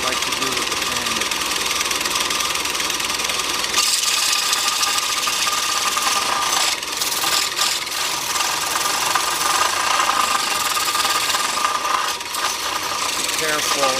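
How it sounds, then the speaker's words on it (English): A sander runs continuously with a dense, loud buzzing whir that shifts slightly in pitch as it is moved against the workpiece, heard up close with some intermittent scraping. "Little dance I like to do with the sander."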